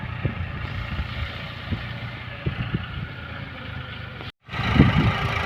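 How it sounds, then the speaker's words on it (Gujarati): A tractor pulling a rear blade to level field ridges chugs steadily at close range with a low, rumbling drone, briefly cutting out near the end before resuming. "તો ટ્રેક્ટર આ રીતે પાળા વીખાય છે."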